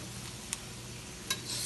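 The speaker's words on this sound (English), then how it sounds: "I'm frying on really low flame and I want to make them golden" Pakoras fry gently in hot oil over a very low flame, giving a faint steady sizzle with a couple of soft clinks from stirring, close and quiet with no speech.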